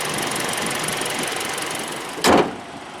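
A 2020 Hyundai Kona SEL's 2-liter Atkinson-cycle four-cylinder engine running at a steady idle, with an even hum and one brief louder whoosh near the end.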